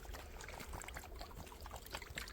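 Water is poured over both sides of something outdoors at a children's survival camp, a soft continuous splashing trickle, faint and steady throughout.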